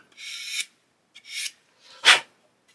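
Plastic parts from an Airfix 1/72 Lancaster B.III kit are rubbed flat against an abrasive surface, three close, raspy scraping strokes with short pauses between them.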